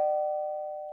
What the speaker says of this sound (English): Well, you rang the bell.